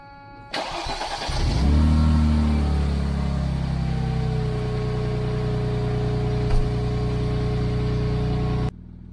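A Mercedes S210 engine cranks and catches, swells into a loud rev, then settles to a steady, rumbling idle up close before cutting off near the end.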